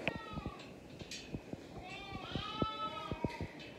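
Sheep bleat in a barn during lambing season, several overlapping wavering calls close by over a steady background of livestock rustle, with a lamb-like higher bleat among them.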